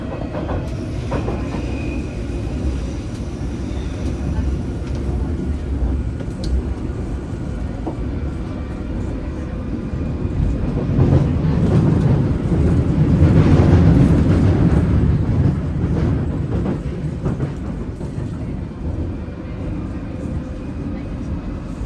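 A London Underground Circle Line train runs at speed with a steady, loud rumble and rattle of carriages, swelling midway as the tunnel roar builds, with no talk over it.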